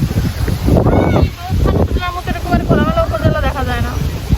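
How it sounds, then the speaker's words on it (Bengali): Strong wind buffets the microphone outdoors in an open area, a heavy low rumble that rises and falls in gusts while people talk over it. "কি পরিমাণ বাতাস দেখেন"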